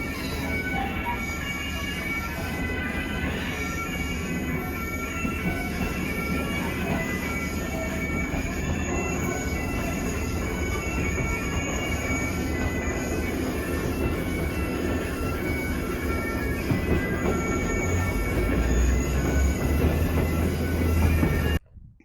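A train runs steadily through the Scottish Highlands near Glenfinnan. It rumbles and rattles over the rails with high metallic wheel squeal, and the sound swells louder toward the end before cutting off abruptly.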